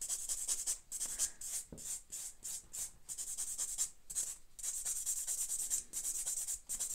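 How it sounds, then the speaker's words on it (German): Nail file rubbing down a press-on nail tip, a soft rhythmic scratchy rasp in quick back-and-forth strokes with brief pauses, close and faint. "ich feile es runter."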